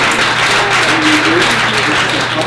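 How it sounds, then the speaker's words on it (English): An audience at a Tallahassee startup event applauding, steady loud clapping from a crowd throughout, with a voice heard faintly beneath it. "We're going to all just give JT a round of applause."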